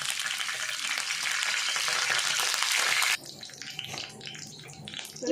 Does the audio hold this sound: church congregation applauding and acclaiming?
no